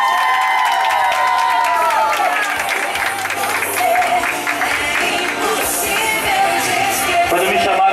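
Crowd applause and cheering for honored women at a friendship celebration in Parque Edu Chaves, a dense steady clapping wash with scattered shouts throughout.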